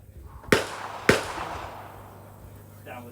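Two sharp, loud rifle shots from a CZ 457 rimfire, about half a second apart, fired at an SK pistol-class shooting match, each with a short decaying ring, followed by quiet and a faint brief noise near the end.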